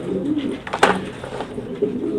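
French meat pigeons cooing nearby, soft low throaty calls repeating with a few sharper flutters and movement noises in between.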